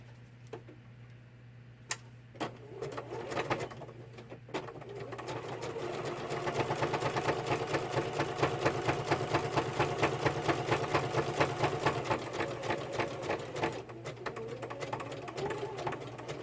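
Sewing machine stitching through many layers of paper to bind a small handmade notebook, a fast steady rhythmic clatter of needle strikes that starts after a few scattered clicks and runs loudly and continuously over a low motor hum.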